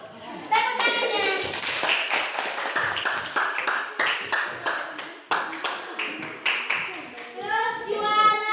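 Classroom applause for a winning group of students: many hands clap in a steady patter of sharp, close taps for several seconds, with children's voices chattering underneath and rising at the end.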